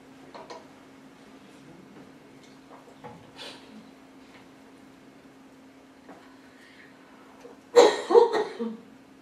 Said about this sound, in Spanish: Me atacó la tos.